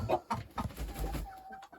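Chickens clucking inside a crowded henhouse on a freezing winter night, several birds giving close, uneven clucks and short calls that overlap, loud at first and then thinning out.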